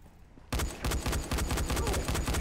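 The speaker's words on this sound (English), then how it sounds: "I hear shots." Rapid gunfire in the zombie game Dying Light, a dense burst of repeated shots starting abruptly after a quiet half second and continuing loudly and steadily to the end, with a few distinct louder cracks mixed in.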